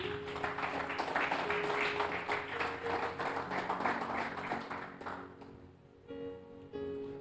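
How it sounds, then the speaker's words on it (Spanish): A congregation applauds Kevin Reina during a church service: dense, sustained crowd clapping for about five seconds, then fading away as steady tonal music carries on underneath. "Dale un aplauso a Kevin Reina"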